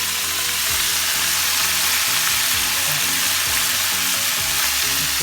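Whitebait sizzles and crackles steadily in hot oil on a high flame, a dense, close, continuous frying hiss with no voices over it.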